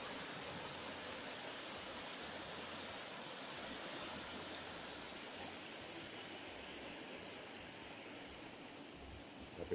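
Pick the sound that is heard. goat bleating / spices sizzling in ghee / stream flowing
stream flowing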